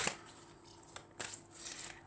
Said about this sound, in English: I'm going to give these cards a little shuffle to start with because they haven't been shuffled.